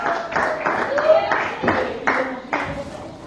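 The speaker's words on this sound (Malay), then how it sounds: "bagi tepukan gemuruh untuk Aiman" A classroom of students claps for a classmate in a rhythmic pattern of roughly seven even bursts, fairly loud and reverberant, with voices mixed in.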